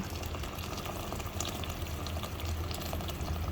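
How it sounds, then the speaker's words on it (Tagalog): Boiled water poured into a cooking pot for chicken tinola, a steady splashing, bubbling rush of liquid that runs continuously throughout, close and fairly loud with no talking. "maglagay na po tayo ng pinakulo ang tubig natin"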